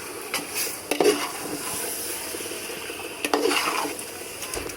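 Chicken, two kilos of it, sautéing in a pot for biryani, with a steady sizzle and a couple of louder stirring scrapes against the metal.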